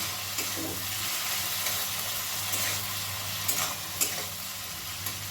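Potatoes fry for egg curry in a covered pan, giving a steady soft sizzle and hiss with a low hum beneath and a few faint clicks of stirring.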